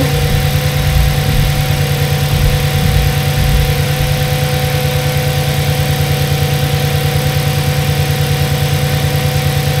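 An Audi S6 with a V10 engine idles steadily after starting, a close, even mechanical hum with a constant low drone and faint rhythmic ticking, running alone without talk.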